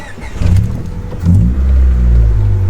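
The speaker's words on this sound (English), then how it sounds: "let me turn on the Civic." A Honda Civic EK with a bigger radiator cranks and fires up, the engine catching and revving loudly up close before settling into a steady, rough idle.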